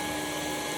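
A Ryobi HP brushless stick vacuum runs on its low setting, giving a steady, close motor whine and airy hum with no variation over a very short stretch.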